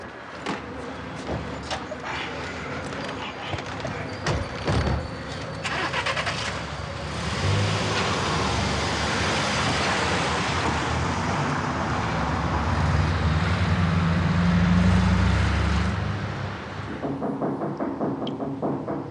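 A car engine cranks and catches after a few clicks and thumps, then revs and pulls away with a swelling, close roar that fades out near the end.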